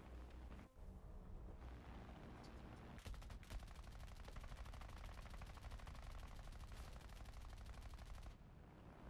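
Bomber defensive gunners in an aircraft combat game firing long rapid machine-gun bursts, a dense continuous rattle over engine drone with a brief pause before the sustained volley, no talk.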